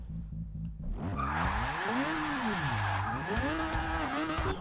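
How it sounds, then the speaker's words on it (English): Car engine revving in the Forza 6 racing game, pitch sweeping up and down through gear changes while tires skid and squeal continuously, loud and steady throughout. "The car sounds like a piece of poo on steroids."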